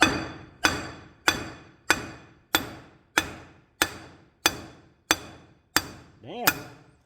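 Wheel studs are hammered back into the front hub of an '84 Toyota pickup with a solid axle: eleven sharp metallic strikes at an even, unhurried pace, close and alone, with a brief voice near the end.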